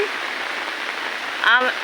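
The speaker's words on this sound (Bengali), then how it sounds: "যেহেতু রহমতের বৃষ্টি হচ্ছে" Rain falling over a rooftop garden as a steady, even hiss, with a brief voice rising near the end.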